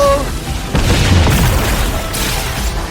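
An anime Hollow Purple attack fires with a heavy, rumbling boom that swells and rolls on as a sustained explosion. A faint tone sounds at the start.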